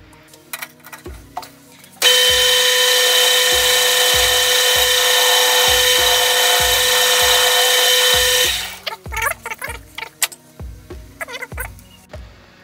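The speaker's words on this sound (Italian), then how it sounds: "Adesso ci facciamo un po' di svasatura esterna" A machine tool cuts an external chamfer on a metal part, a loud steady whining grind lasting several seconds between rhythmic mechanical knocks and clatter of the machinery.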